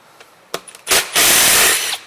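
A T25 driver, likely a power driver, loosens bolts on an Echo ES250 leaf blower shredder vac, with a few light clicks and then a loud, close whirring burst of about a second, no talk.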